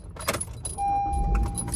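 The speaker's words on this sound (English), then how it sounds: "Let me start my car. I lock the doors." A car is started and its doors are locked: keys jangle close by, then a steady engine hum settles in with a thin electronic tone and a few clicks, no talking.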